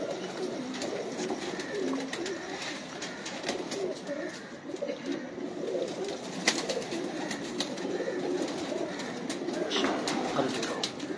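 Flock of pigeons cooing, with soft repeated coos and scattered chirps in a loft, continuing steadily, mixed with distant background voices.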